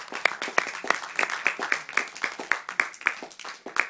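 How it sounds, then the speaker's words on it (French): An audience applauds Ginette Liensol at a tribute reading, a modest, fairly sparse round of clapping with distinct individual hand claps, steady throughout and without talk. "Voilà, vous pouvez l'applaudir."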